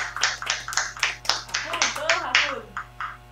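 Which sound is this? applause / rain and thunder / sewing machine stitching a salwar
applause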